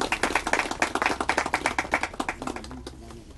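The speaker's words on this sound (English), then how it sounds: "Come on, let's give the Lord a hand clap of praise." Rhythmic, unified hand clapping in praise from a congregation at a homegoing funeral service, a quick steady beat of sharp claps that slows and thins out near the end as a voice begins.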